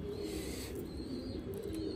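A racer pigeon chick gives faint, high, thin peeping calls in short bursts over a low steady background hum.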